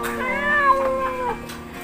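A house cat gives a drawn-out, wavering meow followed by a shorter second call, fairly close but moderately quiet, over a low background hum.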